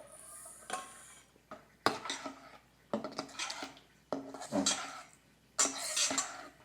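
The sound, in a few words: mixing dry ingredients into pumpkin muffin batter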